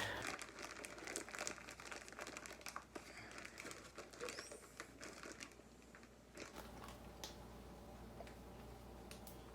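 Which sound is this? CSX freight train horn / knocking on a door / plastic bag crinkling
plastic bag crinkling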